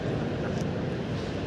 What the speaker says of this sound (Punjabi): ਉਹ ਚੱਲ ਰਿਹਾ ਇੱਕ ਜਹਾਜ਼